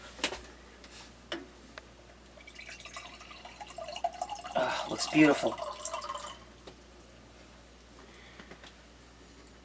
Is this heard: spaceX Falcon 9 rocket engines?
no